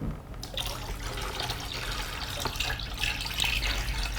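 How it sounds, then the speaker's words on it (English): Water poured into a small tank fitted with an analog water level sensor, a continuous splashing, trickling pour up close with a low background rumble and no talking. "Now I add the water to the tank."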